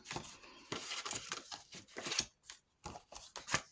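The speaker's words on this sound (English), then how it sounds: "I'm just going to cut that off." Scissors snip through fabric in a series of quick, close, crisp cuts with brief pauses between, quiet and alone without talk.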